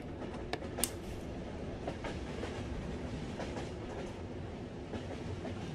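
Train ride in the video game Yume Nikki remake: a steady, continuous rolling rumble with faint rhythmic clatter and a brief sharp click near the start, heard alone without talk.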